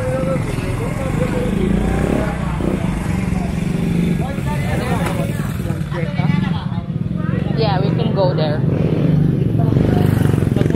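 A motorbike engine drones steadily and close up as it rides through a small village in Tisa, Labangon, Cebu, with people talking over the engine noise.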